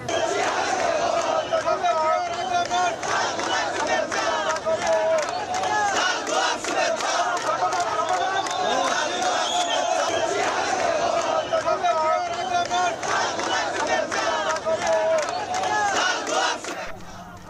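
BNP party activists chanting slogans in a loud, dense crowd, rhythmic massed voices repeating call-and-response bursts throughout, close and sustained, welcoming Khaleda Zia.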